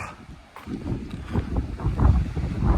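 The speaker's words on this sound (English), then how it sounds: "a bit windy up here" Gusting wind buffets the microphone on a clifftop in Wales in low rumbling waves that rise toward the end, with no voices present.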